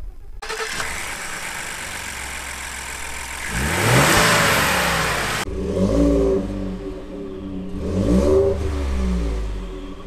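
A 2.7-liter twin-turbo EcoBoost engine in a 2020 Ford F-150 pickup starts, settles briefly, then revs up twice in clear, close bursts with no talking.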